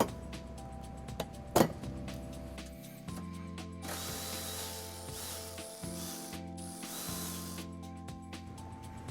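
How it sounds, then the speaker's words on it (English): A ratchet with a 12mm socket backs out a bumper bracket screw on a 2014 Infiniti QX60 during trailer hitch installation, giving close, continuous ratcheting clicks with a sharp knock near the start. "we're going to remove this screw using a 12mm socket"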